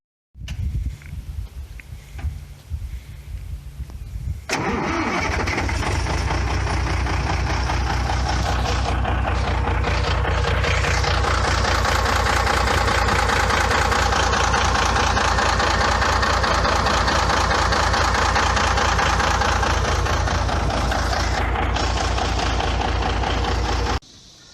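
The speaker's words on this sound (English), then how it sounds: "It has a blown up engine, but it still runs." An old 5-ton truck with a blown engine cranks and catches after a few seconds, then idles loudly and steadily with a rough, knocking rumble that runs uninterrupted to the end.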